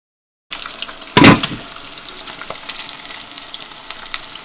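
Fish frying in palm oil for a Nigerian fish okra soup sizzles steadily after a brief silence, with a loud splash-like burst early on and small crackles and pops scattered throughout, and no talking.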